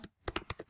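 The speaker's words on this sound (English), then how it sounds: "I'm going to take my typing tool and I'm going to type" Four quick clicks of a computer keyboard, each key tap crisp and close, in an otherwise quiet room.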